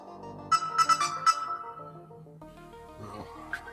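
A mobile phone ringtone plays a short, bright melodic tune of quick chiming notes, then shifts into a softer second phrase, heard fairly close in a quiet room.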